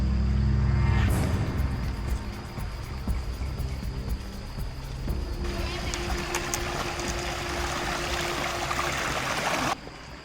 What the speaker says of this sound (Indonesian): kita sudah sampai di sungai pertama yang kita seberangi ketika melewati jalur Senange